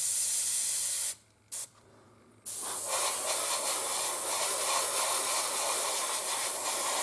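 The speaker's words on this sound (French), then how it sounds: "Je vaporise" An airbrush sprays primer onto the body of a model forklift, a steady close hiss that cuts off briefly twice near the start and then resumes as a continuous spray.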